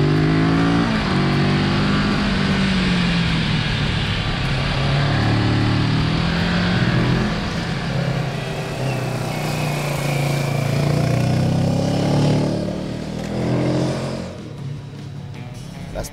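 A 2020 Kawasaki Z650 naked motorcycle engine revs up under throttle, its note rising and falling through several strong accelerations, loud and close, before easing off toward the end.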